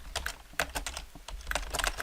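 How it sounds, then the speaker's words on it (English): Quick calculator keys tapped in irregular bursts of clicks, close and clear, about a dozen presses with short pauses, no voices. "so I'm just going to go use my calculator."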